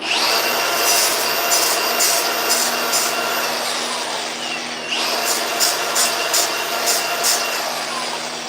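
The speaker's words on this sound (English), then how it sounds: "Probably just quicker to grind it right off." Power tool grinding small metal pieces off during a tiling job, a loud whining grind in two long bursts with pulsing high scrapes, close by and without speech.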